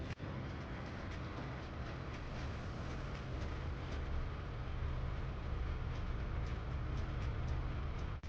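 A passenger train runs along the Hudson River in New York, giving a steady rumbling roll with faint rhythmic clicks of wheels over rail joints, heard from inside and sustained throughout with no talking.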